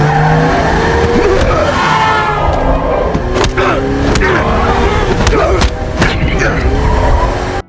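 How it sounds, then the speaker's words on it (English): A car swerves hard in a film chase scene with a knife fight inside, its tires skidding and squealing over loud, continuous engine and action sound, with sharp impacts and a voice mixed in. "as Robert starts to swerve the car"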